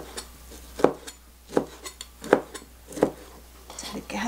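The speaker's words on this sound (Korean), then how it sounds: "그럼 먹기 좋게 우선 썰겠습니다." Cooked beef, leftover skewered beef for soy-braised jangjorim, is sliced into bite-size pieces with a knife on a board, giving a run of regular dull chopping knocks about every three-quarters of a second.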